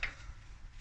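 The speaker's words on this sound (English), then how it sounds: "And you will hear it click." A single sharp click from a torque wrench reaching its set torque on a Honda CR-V brake caliper bolt, close by and brief, then a low room hum.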